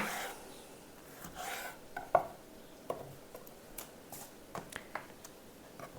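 San Marzano tomatoes halved with a knife on a board, a series of irregular soft cuts and taps up close, fairly quiet, with no talk.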